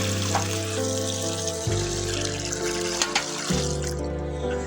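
Water from a large bucket pours onto a rose plant bed in a garden, a steady continuous rush with a few splashy surges and shifts in flow, close and fairly loud with no voices.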